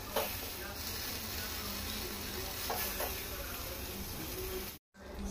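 Brinjal roasting for baingan bharta, turned to cook its other side: a steady, close sizzle and crackle runs throughout, with a few faint clicks and a brief cut-out near the end.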